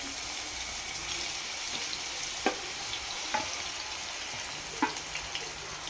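Ground onion fries in hot oil in a pan for an Andhra-style fish curry, making a steady bubbling sizzle with a few sharp clicks of a spoon against the pan, close and fairly quiet.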